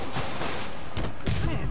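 Thugs fire guns in the Marvel's Spider-Man video game, with a few muffled shots heard under a steady loud wash of game noise and no clear voices.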